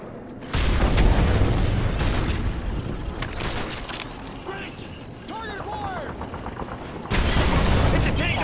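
A-10 gun runs and explosions in the Call of Duty Modern Warfare 3 video game, loud booms and rolling bursts over battlefield noise. Radio chatter and engine whines run through it, with heavy impacts at the start and again near the end.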